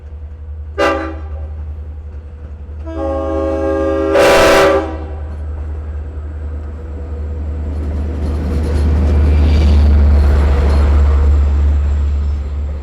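A Long Island Rail Road train sounds loud horn blasts, one short toot then a longer sustained chord, as it approaches, followed by the rising rumble and rattle of the cars rolling past close by.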